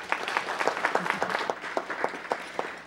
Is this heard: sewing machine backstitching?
no